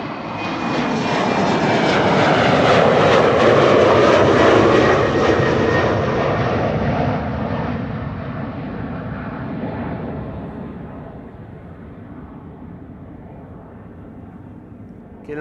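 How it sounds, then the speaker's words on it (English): A KLM jet airliner moves on the ground at Amsterdam Schiphol Airport, its engines a loud, broad roar that peaks early and then slowly fades as the aircraft pulls away, heard alone. "KLM flight 1711 on Cheaters Lane is going to be moving forwards"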